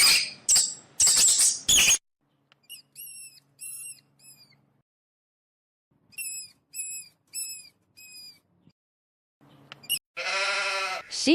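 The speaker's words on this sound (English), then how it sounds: "Sheep." Two bursts of rapid, wavering bleats, each a quick series of short calls, with a longer, louder bleat near the end.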